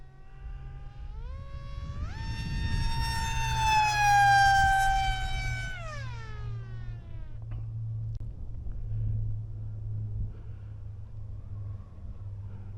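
A foam-board FF-Supernova RC plane on its maiden flight, set up for 4S or 6S power, roars past with a whining motor tone that climbs in pitch, peaks loudly, then drops away over a steady low hum.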